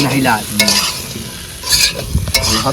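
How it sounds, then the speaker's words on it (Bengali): Fried potatoes and soybean chunks are stirred into spice paste in a pan, with loud close sizzling and scraping strokes in quick bursts. "মশলা কষানো হয়ে গেছে আর এখন ভাজা আলু আর সয়াবিনটা দিয়ে দেবো"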